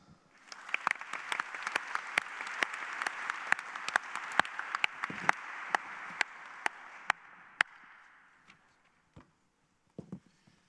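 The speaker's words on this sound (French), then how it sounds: "Merci d'applaudir Olivier Roussin." An audience applauds Olivier Roussin of the Bouygues group at a debate on the future of work. The clapping is steady and fairly close, with sharp individual claps standing out, then fades out near the end, leaving a few scattered claps.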